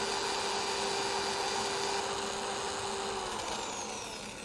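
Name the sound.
power sander sanding a turned wooden bullet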